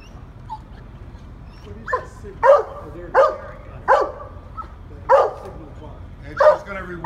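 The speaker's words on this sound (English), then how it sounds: "is one of San Francisco Fire Department's 4 search canine dogs" A fire department search and rescue dog barks in a steady series of about seven sharp, evenly spaced barks and yips over low background noise.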